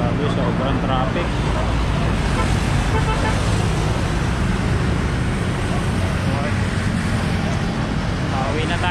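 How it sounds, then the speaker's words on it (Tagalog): Heavy, congested road traffic: a dense continuous wash of idling and crawling engines with occasional horn toots, steady and loud from nearby, no clear individual vehicle standing out. "Grabe, sobrang traffic."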